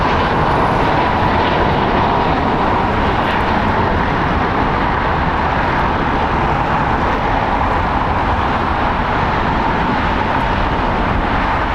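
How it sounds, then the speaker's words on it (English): A four-year-old United Airlines Boeing 737 MAX 9 departs LAX bound for Houston, its jet engines roaring loud and steady with broadband rumble throughout, no voices over it. "Departing United Airlines Flight 1416, going to Houston. It's Boeing 737 MAX 9"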